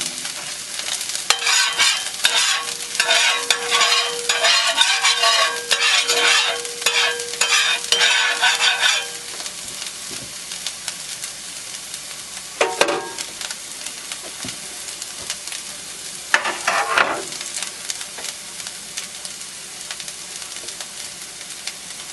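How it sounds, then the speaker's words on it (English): Eggs for an omelet frying in olive oil in a pan, with a steady close sizzle and stirring for the first nine seconds, then quieter hissing broken by two short bursts of spatter. "now I've got the eggs in there, cooking up nicely"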